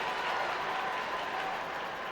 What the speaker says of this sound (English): Crowd in anticipation